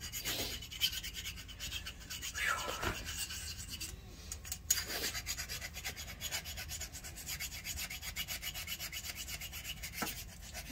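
Rasping strokes of a file sharpening a goat hoof-trimming tool, repeated scraping passes at a steady rhythm, close and moderately quiet with no talk.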